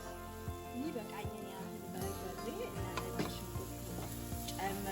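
Berbere spice and garlic sautéing in a pan while preparing Ethiopian-style mandi rice with lamb, a steady soft sizzle with occasional stirring scrapes, close and moderately quiet, with a tonal hum and a voice briefly present.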